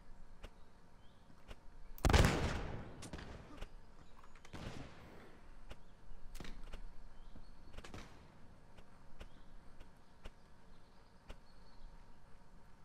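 Musket gunfire during a Mount & Blade Napoleonic battle, with cavalry firing: one loud, close shot followed by several fainter, scattered reports over a low background hum.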